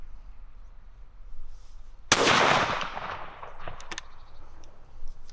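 A side-by-side shotgun fires steel shot from its choke barrel outdoors: one sharp, loud report with a lingering rumble and decay, then faint small clicks as the gun is handled.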